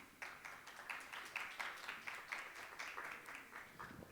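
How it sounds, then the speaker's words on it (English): Conference audience applauding a speaker at a business expo, a moderate burst of clapping sustained at even strength for about four seconds without talk. "A big round of applause for Arpi"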